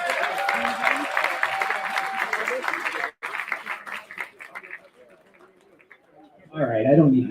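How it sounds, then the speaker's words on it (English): Audience applause at the Xpocanna X Cup cannabis awards, a dense wash of clapping with some voices, fading after a sudden break and rising again loudly at the end. "Give a round of applause to Bob."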